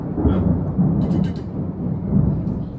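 Thunder in a lightning storm, a loud, deep, sustained rumble heard from indoors, with a brief higher crackle midway.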